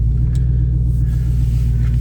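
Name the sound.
Mustang exhaust rumbling down the road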